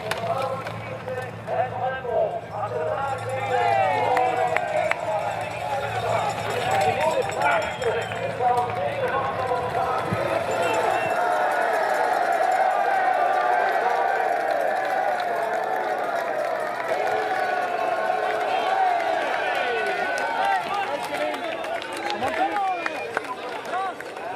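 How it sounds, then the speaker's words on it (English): A trackside crowd shouts and cheers steadily at a women's elite cyclocross World Cup race in Maasmechelen, a continuous roar with a commentator talking over it throughout. "Betsma getting the shouts of the crowd, still chasing hard here"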